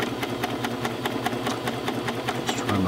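Babylock Diana sewing machine converted to coverstitch, stitching with two needles: a steady, fast mechanical hum with regular rhythmic needle ticks, close and continuous, slightly changing pitch near the end.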